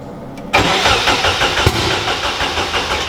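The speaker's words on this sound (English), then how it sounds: "preparing to turn this thing over. See if it fires up." A Nissan 240SX with a KA24 engine is cranked after a rebuild: a loud, close starter churns in a rapid rhythmic pulse after a brief click, the engine straining to fire without settling into an idle.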